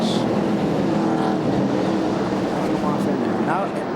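NASCAR Busch North Series race cars circling Thompson Speedway, a steady loud engine roar from the pack with a faint passing whine near the end, under continuous commentary.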